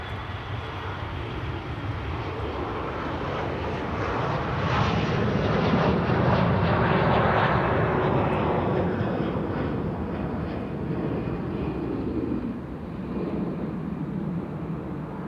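Airliner departing Amsterdam Schiphol Airport, a broad rushing jet roar that swells to a peak midway and then eases as the aircraft climbs away, continuous with no voices.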